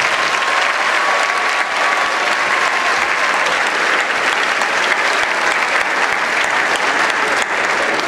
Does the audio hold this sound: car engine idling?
no